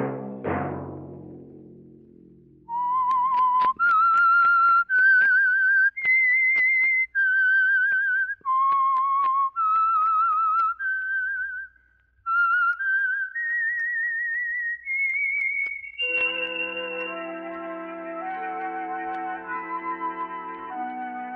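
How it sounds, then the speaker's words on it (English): The whistle signal of The Whistler radio program on an old broadcast recording: a lone whistled melody of held, sliding notes that ends in a sustained orchestral chord. "Let that whistle be your signal for the Signal Oil program, The Whistler"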